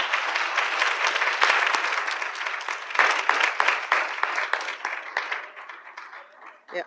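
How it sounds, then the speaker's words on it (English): A room of people applauds the ladies being honored at a grandmothers' appreciation event, steady dense clapping that fills the space for several seconds before thinning and fading out. "Can we give all those ladies another round of applause, please?"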